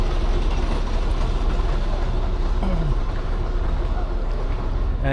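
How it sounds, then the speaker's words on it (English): A large compound steam traction engine with two cylinders and a huge flywheel runs at a spring fair, giving a steady, loud, continuous mechanical rumble with a rhythmic clatter throughout. "traction engine. Note the humongous size flywheel. In fact, it looks like it's got 2 cylinders, so it's a compound steam engine."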